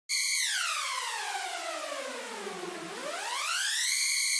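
A synthesized super saw uplifter riser effect in an electronic music preset, a bright stacked buzzing tone that sweeps steeply down and then climbs back up to its peak pitch, loud and steady throughout.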